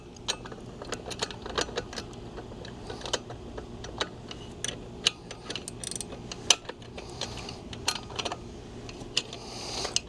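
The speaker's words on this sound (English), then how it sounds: "So we're just going to ratchet this down." A hand ratchet is worked to tighten a strap or bolt on a motorcycle wheel chock, giving rapid, irregular bursts of close metallic clicking over a quiet background.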